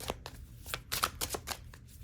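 Tarot cards are shuffled and drawn from a deck, giving a close, quiet series of quick papery flicks and slides in an irregular rhythm, with no one speaking.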